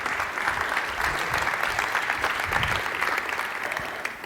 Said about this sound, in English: please give a big applause to Thomas Lohninger